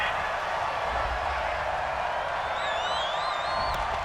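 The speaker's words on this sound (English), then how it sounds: "Well, the crowd doesn't like that." Stadium crowd in Madden NFL 20 reacting to a penalty flag during a Browns versus Cardinals game, a broad steady roar of voices with a few whistles rising near the end.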